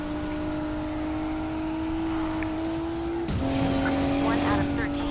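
A car's nitro boost kicks in during Need for Speed Payback, a steady loud engine drone that shifts pitch and swells into a rushing surge, with a voice speaking over it.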